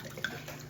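Red Riserva Chianti from Italy poured from a bottle, a short steady liquid pour with faint splashing, close and alone.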